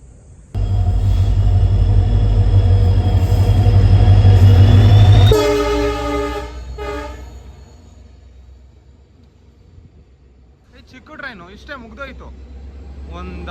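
A diesel passenger train passing through a railway station sounds a loud, sustained horn over a heavy engine rumble, then fades away, followed by people talking nearby.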